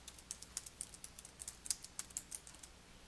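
Quick, steady typing on a computer keyboard in Word 2019, a run of light close key clicks at an even pace with no voices.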